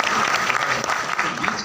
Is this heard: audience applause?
yes